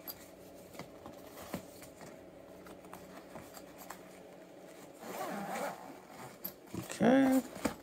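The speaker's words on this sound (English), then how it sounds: "Let's unzip the top of this." The top zipper of a Fender Rumble 800 HD bass amp cover is pulled open, a short raspy zip near the end after quiet handling and rustling, with someone speaking briefly.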